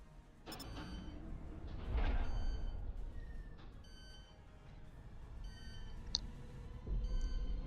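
Warning beeps for an incoming torpedo sound in the space combat game Infinity: Battlescape, short electronic tones repeating over a low rumbling engine drone, with swells of noise.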